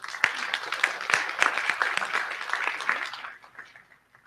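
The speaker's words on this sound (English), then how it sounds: "Another big round of applause for her." Audience applause at a startup summit masterclass, dense steady clapping from a crowd that holds strong for about three seconds and then tapers off quickly.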